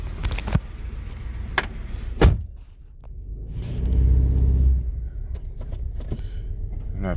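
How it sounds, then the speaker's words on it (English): A car engine at an auction, check engine light on, is revved and stumbles with a hesitation; a deep rumble swells and sags for a couple of seconds amid surrounding clicks and knocks, with voices nearby. "you hear the hesitation in the engine."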